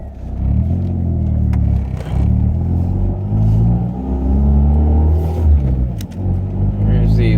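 A car driving down the road at night while its LED headlight bulbs are tested, producing a steady close engine rumble and road noise, with someone talking over it throughout.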